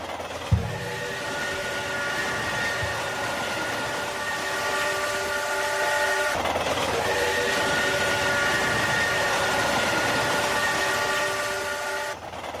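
A train rumbles steadily throughout near Clifton, Arizona, in the evening, with a long sustained horn blowing over the engine noise, a brief break, then the horn sounding again.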